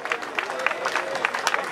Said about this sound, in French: Et nous applaudissons.